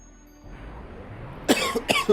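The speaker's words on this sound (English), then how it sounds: "I've been holding in that cough for a while" A person coughs a few times in quick bursts near the end, loud and close, after a quieter stretch of low background noise.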